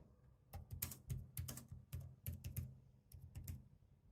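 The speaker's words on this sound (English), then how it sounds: "The keyboard feels good and it's easy to type away." Typing on the keyboard accessory of an Amazon Fire Max 11 tablet: quiet, close clicks of keys in quick irregular bursts with brief pauses, no voices.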